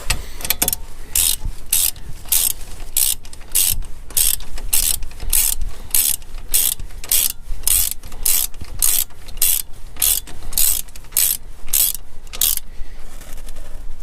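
A ratchet tightens the front brake bolts on a 2009-2018 Ram 1500 during a brake pad and rotor swap, giving a long, steady run of close, crisp clicks with brief pauses and no talking.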